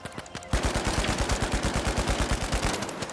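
Rapid automatic gunfire in the video game The Finals, a steady stream of close, loud shots after a brief lull with a few scattered bursts.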